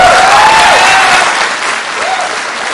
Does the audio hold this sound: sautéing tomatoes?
no